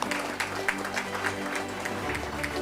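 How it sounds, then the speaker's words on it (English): Audience at an agriculture ministry awards ceremony applauding a dive shop, a brief burst of mixed clapping heard in a hall with some crowd murmur beneath. "Let's just give them a round of applause."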